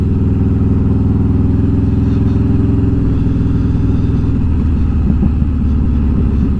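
A motorcycle engine drones loud and steady on a quick ride through a large cemetery in Gainesville, North Texas, with a continuous low rumble that shifts slightly in pitch partway through, plus faint road and wind noise.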